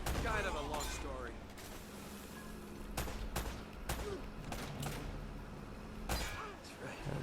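Scattered sharp gunshots in a firefight from the action game Uncharted: Drake's Fortune, several cracks spaced irregularly over a busy game soundscape with voices talking at times.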